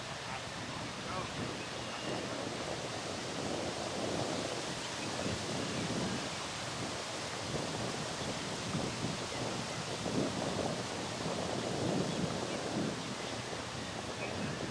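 Strong headwind blowing steadily across an outdoor disc golf course, a continuous loud roar of wind buffeting the microphone for the whole stretch, with no clear voices.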